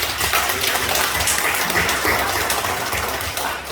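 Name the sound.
applause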